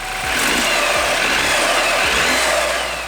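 A BMW F30 328i engine runs loudly and steadily with a dense mechanical whir and faint ticking underneath from a failing timing chain, close up.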